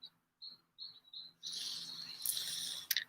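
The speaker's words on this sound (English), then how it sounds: "Listen to the birds." Birds singing outdoors, a few clear high chirps at first, then a louder wash of overlapping bird song and insect-like trilling, faint and somewhat distant.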